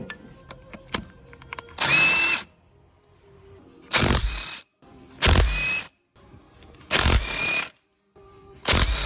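A power tool works the crank pulley off a Vauxhall Crossland X with the 1.2 PureTech engine, firing in five loud, abrupt bursts separated by short quiet gaps.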